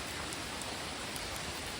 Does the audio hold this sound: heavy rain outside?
yes